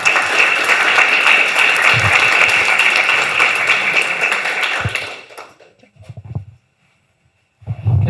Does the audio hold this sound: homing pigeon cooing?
no